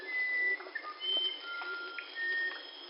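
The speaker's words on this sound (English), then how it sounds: "We also got musician wren, which is what you're hearing from this really beautiful melodic bird." A musician wren sings clear, pure whistled notes in a slow melodic sequence in the Amazon forest, faint and somewhat distant, with no voices over it.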